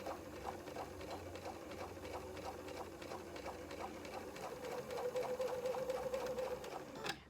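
A sewing machine stitches a shirt yoke seam at 3.0 stitch length, a quiet, fast, steady mechanical whirr with rhythmic needle ticks, including back stitching.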